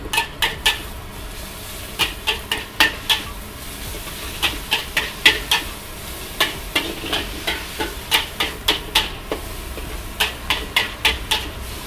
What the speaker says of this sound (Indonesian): Pakai daging tuh, daging langsung diolah ya, langsung digoreng.